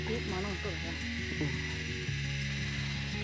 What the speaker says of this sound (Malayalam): കടുക് പൊട്ടി നമുക്ക് ലേശം കരിയാപ്പില ഇടാം.